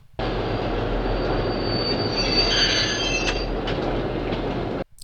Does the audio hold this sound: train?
yes